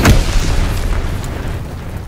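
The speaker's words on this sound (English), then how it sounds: "Dropping Azon bomb." An Azon bomb in Call of Duty: WWII detonates with one loud, close booming blast that rolls off into a long, fading rumble.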